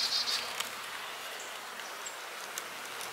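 Honey bees hum softly around an open hive while calm, gentle colonies are being worked, a faint, even buzz with a few brief individual passes.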